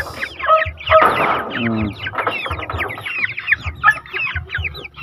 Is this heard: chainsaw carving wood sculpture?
no